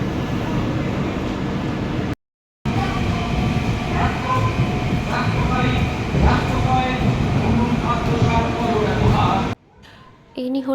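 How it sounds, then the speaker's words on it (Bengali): A train rumbles into Santragachi station at night, its loud, steady rolling roar and clatter filling the platform while people talk nearby, cut by two brief silent gaps. "এই যে এদিকে একটা ট্রেন ঢুকলো"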